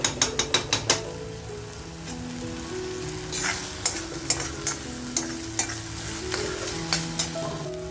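Vazdi masala sizzles in a pan as it is sautéed with a splash of water, a spoon scraping and clinking against the metal in quick rhythmic strokes over a steady frying hiss.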